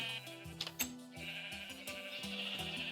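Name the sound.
sheep bleating in the video game Minecraft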